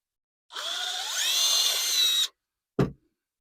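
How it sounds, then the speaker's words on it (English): A power drill bores a hole through cedar wood, running steadily for nearly two seconds as its pitch rises, then a short solid knock follows after a brief pause. "I'm gonna drill that hole through."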